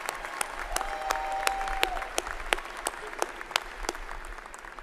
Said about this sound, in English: Please give Dr. Kristen Hetty and the Winthrop Commencement Band a round of applause for their wonderful concert